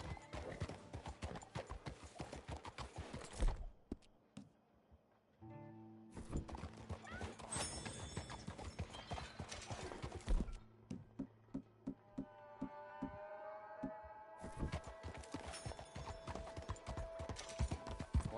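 Horse hooves clip-clop at a steady gallop in Red Dead Redemption 2, close and loud, with occasional whinnies and snorts, a brief lull partway through before the hoofbeats pick up again, and light game music and effects underneath.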